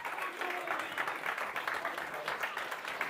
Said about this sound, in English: Big round of applause for all the athletes there.